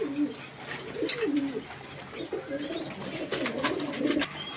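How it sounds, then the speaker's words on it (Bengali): Giribaj pigeons coo repeatedly, soft low rolling calls in a steady series, close and clear with no talk over them. "অনেক চটপটা কবুতর"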